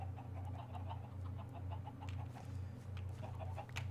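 Chickens in the video game Minecraft cluck softly and repeatedly in a steady rhythm over a low hum, faint and continuous with no talking.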